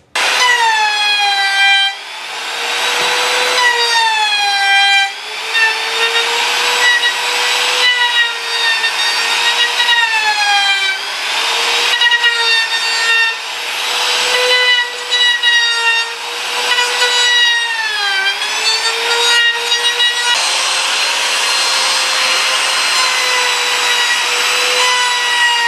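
A hand saw cuts counterclockwise through cherry wood for a miniature table. The strokes rasp in a steady back-and-forth rhythm, close and loud, with squealing tonal whines rising and falling, and no voices.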